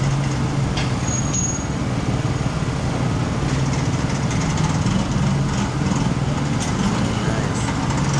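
Suzuki race motorcycle engine running at the paddock side during a 2024 Bridgestone CSBK round at Shannonville Motorsports Park, a steady low engine drone held throughout under crowd noise and nearby voices.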